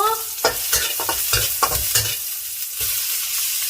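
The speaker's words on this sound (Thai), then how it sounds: "ใส่กระเทียมไทยลงไปตัดเลยกับน้ำมันหมู" Thai garlic fries in hot pork lard for a spicy pad kra pao stir-fry, with loud, close sizzling and a quick series of scraping stirs from a spatula in the pan.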